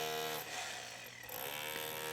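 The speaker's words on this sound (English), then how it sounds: "this rotary hammer is going all the way through the face of that block" Rotary hammer drilling through the face of a concrete block, a loud, continuous buzzing hammer drone with harsh, gritty texture that sags briefly in the middle and then picks back up, close and alone.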